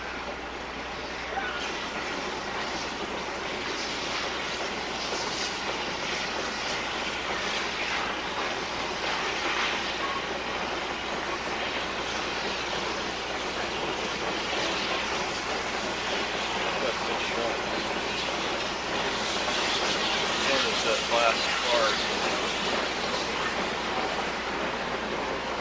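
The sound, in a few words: locomotive engine close-up at Kinzua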